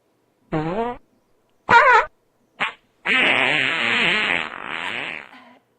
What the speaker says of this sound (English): do you know how to fart?